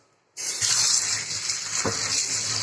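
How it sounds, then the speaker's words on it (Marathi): Water pours in a steady, close gush to wash wheat grains, starting abruptly after a brief silence and running on evenly with a small knock partway through. "आता ह्याला ना का पाणी टाकून धुवायचं"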